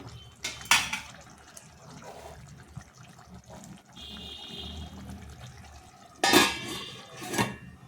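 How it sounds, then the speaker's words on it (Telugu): A lid goes onto a cooking pot of yellow Thai chicken gravy, with a few sharp metallic clanks and clattering handling noises amid quieter kitchen sounds, no voices. "ఇలా మూత పెట్టేసుకుందాం."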